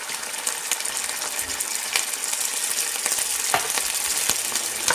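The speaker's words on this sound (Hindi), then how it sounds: "मैं इसको स्टर फ्राई करूँगी" Onions stir-fry with ginger garlic paste in a pan for a goat trotters dish, giving a steady close sizzle with scraping stirs and occasional clinks of the spoon.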